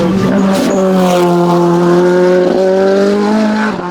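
A production-class race car roars loudly and steadily nearby at the La Pommeraye 2025 race, its pitch holding high as it speeds past.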